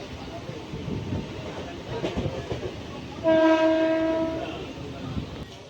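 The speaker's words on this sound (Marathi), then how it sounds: "ट्रेन आलेली आहे प्लॅटफॉर्म क्रमांक 2 खोपोलीसाठी" A 12-car local train arrives at the Khopoli platform: steady rail rumble and clatter, with a loud, sustained horn blast of about a second near the middle and a faint murmur of people in the background.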